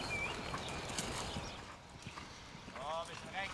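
Horse trotting during cross-country eventing training, heard as soft rhythmic hoofbeats under an instructor's spoken directions, with faint bird calls in the open air.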